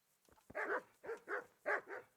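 Dogs in the medieval world of Kingdom Come: Deliverance bark three times in quick pairs of gruff woofs, fairly close and loud, with nothing else competing.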